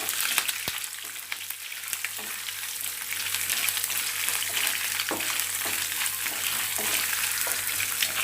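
Chopped coconut pieces fry in a pan for a jackfruit masala, giving a continuous crackling sizzle with occasional stirring scrapes and sharp pops, close and steady without talk.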